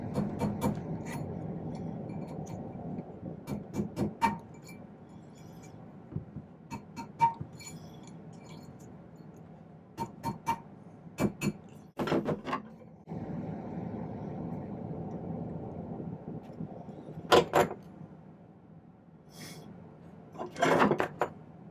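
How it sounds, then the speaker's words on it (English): A metal ring being shaped around a ring mandrel for a statement ring with a rectangular faceted stone, giving intermittent close taps, clinks and scraping rubs with quiet gaps between bursts. "Next stage, shaping this around the mandrel."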